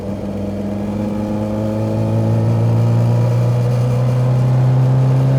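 An Alfa Romeo Giulia GTAm engine pulls hard under acceleration, a loud, steady mid-pitched drone that swells and grows louder partway through, with no talking over it.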